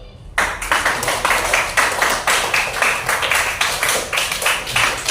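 A classroom of students clapping together in a rhythmic, pulsing pattern for several seconds, loud and close, beginning abruptly after a brief quiet moment.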